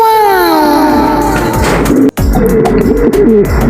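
Pigeons kept as flyers coo loudly and close by, with wavering, gliding calls that overlap and carry on throughout.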